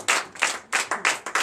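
Congregation at a Sunday church service in Comè, Benin, clapping hands in acclamation, loud rapid bursts of applause repeating in close succession with no talk over it.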